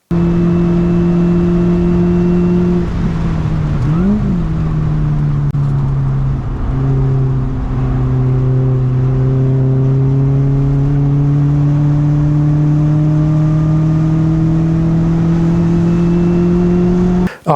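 A race car's engine drones loudly and steadily through turn 2 at the Phillip Island circuit, its pitch dipping briefly then climbing as it accelerates out of the corner, with no talking.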